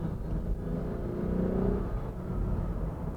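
A 2014 Lexus IS 350 F Sport engine pulling on a drive, a steady low rumble and drone that swells briefly in the middle then settles, heard from inside the car with no talk.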